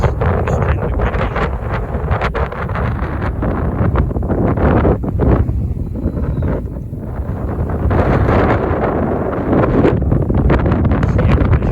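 Strong wind roars across a mountainside overlook on the Appalachian Trail near Palmerton, a loud, continuous buffeting rush against the microphone that swells and eases without letting up.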